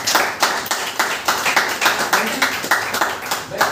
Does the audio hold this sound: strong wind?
no